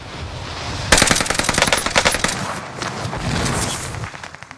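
Rapid automatic gunfire in a video game, a loud sustained burst of closely spaced shots that starts abruptly, eases off briefly, then continues before cutting out.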